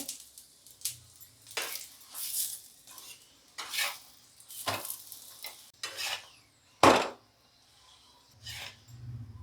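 Paneer paratha frying in oil in a pan, close bursts of sizzling and spatula scrapes coming in uneven strokes, with one sharper clatter of metal and quiet gaps between, no speech.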